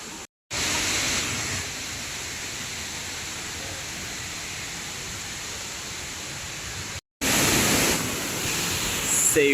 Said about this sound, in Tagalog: ito na yung highest falls dito sa Luciana, Laguna or Laguna, ang Hulugan Falls